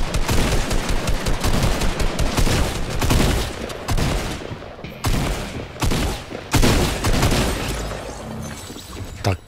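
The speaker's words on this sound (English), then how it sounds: "Tactical shotgun." Rapid bursts of gunfire from a tactical shotgun and other weapons in a Fortnite match, loud, dense and repeated across the whole stretch, with brief gaps between volleys.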